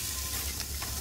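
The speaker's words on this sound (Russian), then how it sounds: "это мы пока жарим свинину, потом будем еще говядину жарить." Pork and beef steaks frying in a pan, a steady close sizzle with a faint crackle, heard alone throughout.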